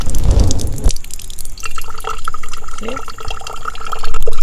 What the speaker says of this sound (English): See how fast this soil is absorbing water. See how it's coming out.